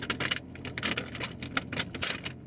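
A Taco Bell paper bag is unsealed and opened with a run of crisp, close crinkles and rustles in short bursts, with no talking.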